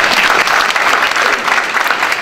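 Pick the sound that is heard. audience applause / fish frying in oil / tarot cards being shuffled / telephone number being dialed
audience applause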